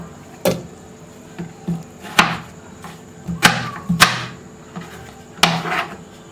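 Bottle gourd pieces dropped into chana dal in a cooking pot, giving about half a dozen separate soft thuds and knocks spaced irregularly over a quiet background.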